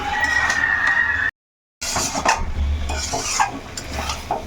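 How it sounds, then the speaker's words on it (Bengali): Mutton sautéed hard in a pan over a high gas flame, with scraping and stirring clatter over a steady sizzle, briefly cut by a gap of silence before the busy frying resumes. "এখন মাংসটা একটু ভালো করে মিনিট 3 জোরে কষিয়ে নিতে হবে।"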